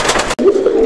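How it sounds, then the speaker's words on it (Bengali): Fancy Giribaz pigeons give a short, close, low cooing call, broken by a brief gap. "এখানে তিনটা হচ্ছে একবারে কালারফুল কবুতর আপনারা দেখতে পাচ্ছেন"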